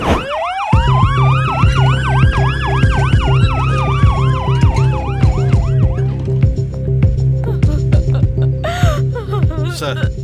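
An ambulance siren wails up and down over a steady engine rumble, loud and close, with sharp clatters and beeps toward the end.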